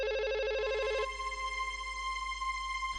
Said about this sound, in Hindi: अब किसका फोन आ गया?